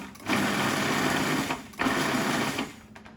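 A Breville food processor blitzes garlic and parsley in two loud, close bursts of whirring motor noise, each lasting just over a second with a brief pause between them, and no voices present.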